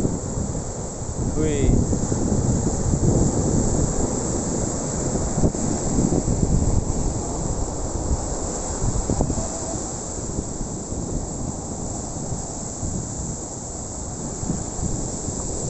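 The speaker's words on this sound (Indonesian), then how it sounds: "ombaknya besar guys" Big ocean surf at Kuta Beach, Bali, roars as a steady, dense wash under strong wind buffeting the microphone, with a brief exclamation from a person near the start.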